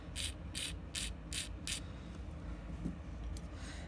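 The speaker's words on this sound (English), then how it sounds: "I'm just gonna straighten up the edge a little bit with an 80 grit file" An 80 grit file rasping across the edge of an artificial nail tip: five quick, even scratching strokes close to the mic, then a few fainter, scattered strokes.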